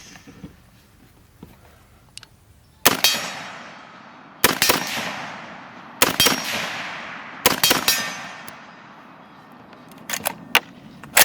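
Remington R-25 .308 rifle firing at targets: a few sharp, loud reports with ringing tails, spaced irregularly by pauses, then a quick cluster of shorter cracks near the end.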